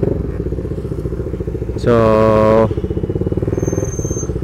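A CFMoto 300SR sport motorcycle engine drones steadily and loudly while riding, rising into a brief higher-revving surge in the middle before settling back; a voice says a single word.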